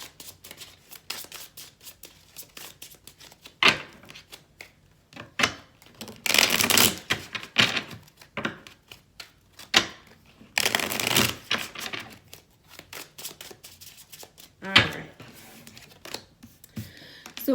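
A single deck of tarot cards shuffled quickly by hand, with rapid papery riffles and flicks in bursts, louder bridging riffs in places, close and alone.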